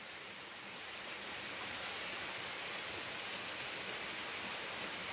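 Huibang waterfall on Sobaeksan mountain, swollen after recent rain, roars as a dense, steady rush of falling water, heard continuously from nearby with no voices.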